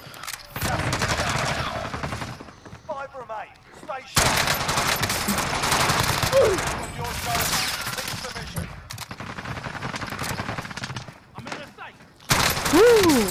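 Rapid automatic gunfire rattles through a video game shootout in long dense bursts broken by brief pauses, loud and close, with players talking over it.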